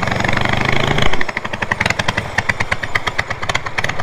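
A modified OHV lawn mower engine on an offroad mower build roars steadily, then drops into a rough, loping idle with uneven popping beats, loud and close.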